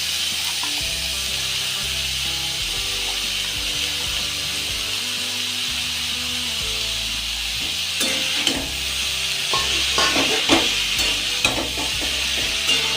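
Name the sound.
spinach frying and being stirred in a pan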